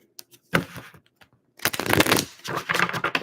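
Tarot card decks shuffled by hand in a few short bursts of riffling and flapping, close and fairly soft, separated by brief pauses.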